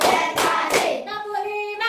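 Schoolchildren in a classroom clap in a counting clap game, giving a few loud, closely spaced claps before voices take over.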